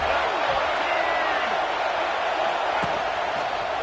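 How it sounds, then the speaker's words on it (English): A stadium crowd roars for the defense on third down at a football game, a broad, sustained wash of distant cheering that holds steady and loud throughout. "Decibels rising as the crowd gets behind this defense on 3rd down"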